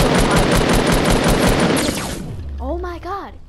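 Rapid automatic gunfire rattles loudly in a Fortnite match for about two seconds, then cuts off, followed by a brief voice in the game.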